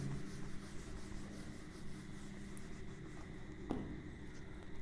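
Writing during a lesson gives a soft, continuous scratching and rubbing, faint and close, with a brief louder tap near the end and no speech.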